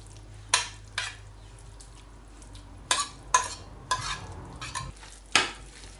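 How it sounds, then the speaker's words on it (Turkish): Grated zucchini and carrot being stirred into yogurt in a bowl for a salad: a few scattered spoon scrapes and clinks against the bowl, close but quiet, with pauses between strokes and no talking. "Kabak ve havucumuzu yoğurdun içine katabiliriz artık."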